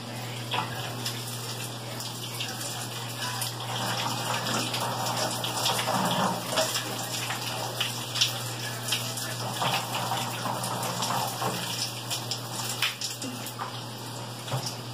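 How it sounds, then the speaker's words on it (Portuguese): A home shower runs steadily for a hair wash, giving an even, close hiss of spraying water with small splashes and drips throughout, no voices over it. "Vou ligar aqui o chuveiro"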